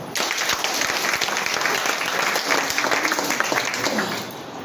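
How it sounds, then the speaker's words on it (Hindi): Loud, sustained applause from a seated audience at a program gathering, steady clapping across the whole stretch before tapering off near the end, with no talk over it. "एक बार जोरदार ताली।"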